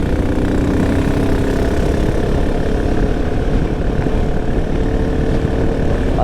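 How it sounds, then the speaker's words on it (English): A Royal Enfield Himalayan 450 with a rally exhaust hums in a steady, low, fairly subdued drone during a commute, with no talking. "Exhaust is not obnoxious at all. Very subtle sound, very subtle sound."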